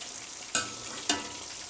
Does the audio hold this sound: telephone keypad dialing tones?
no